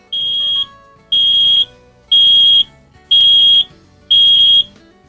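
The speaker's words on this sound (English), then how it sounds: "When activated, the LP warning sounds like this." An LP gas leak detector alarm in a 2004 Newmar Mountain Aire motorhome sounds five loud, piercing electronic beeps, each about half a second long, repeating at a steady one-second rhythm.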